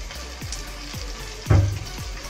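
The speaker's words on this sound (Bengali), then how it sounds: "এবার আমি কিছুক্ষণ নেড়ে নিচ্ছি।" Chicken leg pieces fry with soy sauce in a pan, sizzling steadily while a spatula stirs in a few rhythmic strokes, one louder scrape midway, close up.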